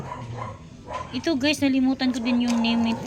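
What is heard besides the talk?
dog barking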